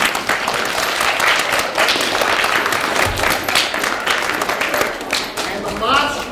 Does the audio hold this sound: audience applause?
yes